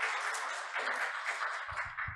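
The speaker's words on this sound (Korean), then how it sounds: "큰 박수로 환영해 주시면 감사하겠습니다." Faint applause from a seminar audience at a corporate governance event welcoming the next presenter, a soft spread of clapping that thins out near the end as low-pitched sounds begin.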